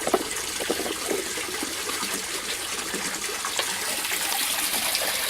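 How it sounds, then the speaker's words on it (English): Water gurgles and trickles steadily as it drains out of an aquaponics grow bed, a close, continuous splashing flow that grows slightly fuller toward the end. "All the water flowing out means one of these ones is currently draining"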